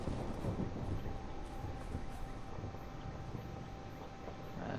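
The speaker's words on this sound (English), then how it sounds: "It's pretty windy here in Australia." Wind in Dead Island blows steadily as a broad, even rush with low rumble, moderately loud and continuous, with no talk.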